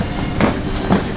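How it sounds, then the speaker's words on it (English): A moving double-decker train rumbles steadily in Lithuania, with two soft rhythmic clacks from the wheels passing over rail joints, heard from inside a carriage. "It's like a double decker bus, but a double decker train."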